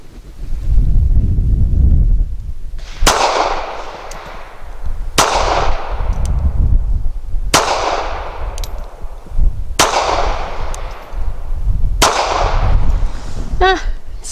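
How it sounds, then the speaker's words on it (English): Springfield Armory 911 pistol in .380 firing 95 grain rounds, five sharp loud shots spaced about two seconds apart, each with a short ringing tail over steady wind rumble. "so I'll shoot at the right circle square"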